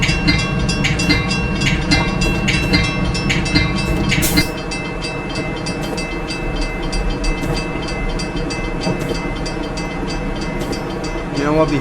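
Metra commuter train running the Aurora to Chicago line in Train Sim World, a steady rumble and rail roar with faint clatter throughout, a short sharp burst around the fourth second, no talk.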